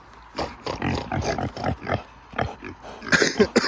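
A pig grunts and snorts repeatedly at close range, in short rhythmic bursts with a few higher squeaky oinks near the end.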